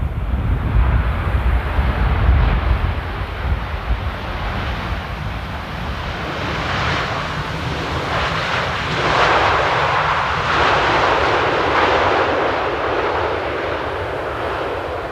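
An airliner lands at Amsterdam Airport on a windy day, its engine roar heard from a distance under heavy wind buffeting on the microphone and swelling as the jet rolls out.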